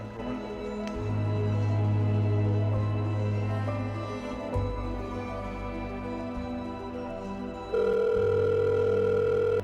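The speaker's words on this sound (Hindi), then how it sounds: "हाँ ऐसा करता हूँ, रोहन को फोन करता हूँ" An outgoing phone call ringing out: a steady electronic tone that drones for several seconds, then shifts to a higher pitched ringback tone, clear and alone without speech.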